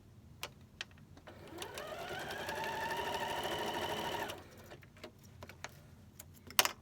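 A sewing machine stitches rows of a scrappy nine-patch quilt in one steady whirring run of a couple of seconds, with light clicks and handling sounds before and after, quiet and close.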